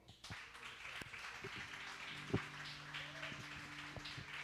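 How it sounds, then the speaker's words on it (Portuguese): A church congregation at a celebration service applauds the Lord. The clapping is faint and scattered, heard over a sustained low musical tone and a few sharper claps. "Aplaudam o Senhor."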